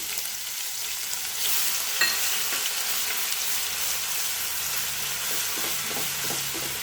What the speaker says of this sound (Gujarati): હિંગ નાખીને દોઢથી બે ચમચી આદુ મરચાં લસણની પેસ્ટ એડ કરીશું